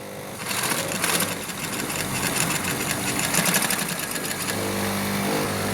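An antique sewing machine runs steadily at a slow speed, giving a continuous close mechanical whir and rattle with a brief lull near the start and a change in tone near the end, with no talking.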